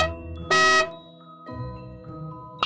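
Bus horn giving a single loud, bright honk of under half a second, standing out sharply above a quiet melodic background, with no voices over it.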